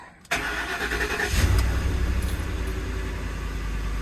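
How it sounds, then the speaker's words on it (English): A 2010 Ford F-150 with about 229,000 miles cold-starts: a brief cranking whir, then the engine catches and surges loudly before settling into a steady, rumbling idle, heard close with no speech. "And here we go, cold start."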